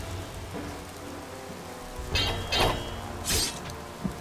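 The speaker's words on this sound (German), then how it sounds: "Im Regenwetter und so." Rain falls steadily in the fantasy role-playing game Gothic II, a constant patter on surfaces with a few louder splashy bursts and hissing gusts partway through.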